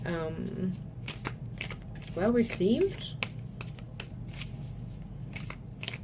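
Rapid papery riffles and flicks of tarot cards being shuffled, close by, while a person talks over them.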